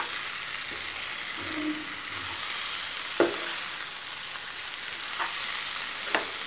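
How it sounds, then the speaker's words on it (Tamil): Potato masala for poori sautéing in a pan after mixing, a steady soft frying hiss throughout with a few sharp stirring scrapes and clicks from a spoon against the pan. "நல்லா கலந்து விட்டுட்டு ஒரு 2 நிமிஷம் வதக்கிட்டு"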